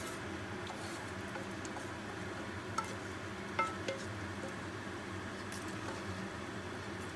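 Rice stirred in hot oil while making rice porridge: a quiet, steady sizzle and frying hiss, with a few soft scraping clicks from the stirring.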